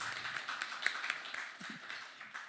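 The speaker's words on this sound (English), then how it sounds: "everybody just give Will a big round of applause, please" Audience applause at a one-year anniversary celebration, a steady patter of many hands clapping at moderate, fairly quiet level for a couple of seconds, with no voices over it.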